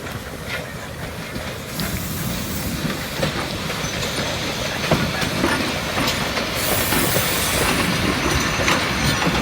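A locomotive hauling a railway car rolls past close by at a workshops open day, its steady rumble and clickety-clack of wheels broken by occasional hissing and faint metallic squeals.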